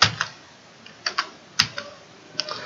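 Keystrokes on a computer keyboard, a handful of short clicks in irregular bursts, close and fairly quiet, with no talking.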